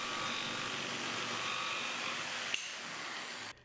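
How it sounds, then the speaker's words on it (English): A jigsaw cuts the toe kick out of a cabinet panel, a continuous buzzing rasp at moderate distance that ends with a click and stops abruptly. "I then use my jigsaw to remove the waste."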